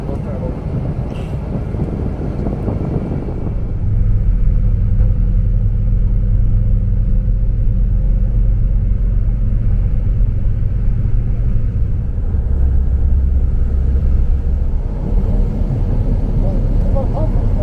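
Inside a tour bus heading toward the Zhangye rainbow mountains in China, a deep, continuous engine rumble and road drone fills the cabin, settling into a steady loud hum after some early talk.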